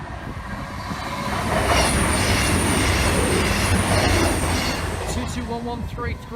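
A train rumbles past steadily, a broad rolling roar with faint wheel squeal and rhythmic clatter, loud and close throughout.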